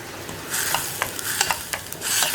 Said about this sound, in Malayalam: ഇതെല്ലാം ചേർന്ന് നന്നായിട്ടൊരു 2 മിനിറ്റ് വഴറ്റിയെടുക്കുക